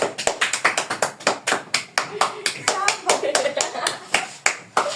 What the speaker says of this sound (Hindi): ताली तो बजा लो